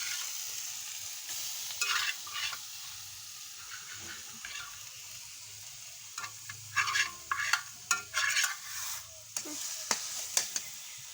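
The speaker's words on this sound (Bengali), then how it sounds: "দেখতে পাচ্ছ কচু শাকটা নাড়াচাড়া করছি" A spatula scrapes and stirs boiled taro leaves frying in a pan over a clay stove, with a steady soft sizzle and a bunch of louder scraping strokes near the end.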